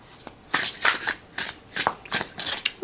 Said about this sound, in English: Okay, overhand shuffle is fine.